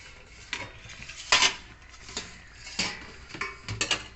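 A metal plate used as a lid is lifted off a steaming pot of bhapa ilish, steamed hilsa, giving several sharp, close metallic clinks and scrapes spaced irregularly, with no talking.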